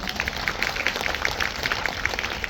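Audience applause at a Korean film talk event for 'Seoul's Spring', a steady patter of many hands clapping in a hall, continuous and moderately loud.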